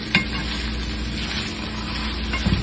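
A picadillo of ground meat and potato cooks in a pan with a steady, close sizzle and a couple of soft stirring clinks, alone and without talking.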